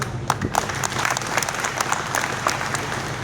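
Audience clapping at a political speech, a steady dense applause from a crowd that carries through the whole stretch at moderate loudness with no voice over it.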